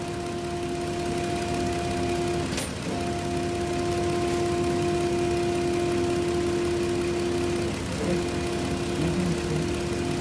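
A Hyundai Azera engine runs at a steady idle after repair work, a continuous even hum with a constant tone and a brief knock partway through, heard fairly close with no talking.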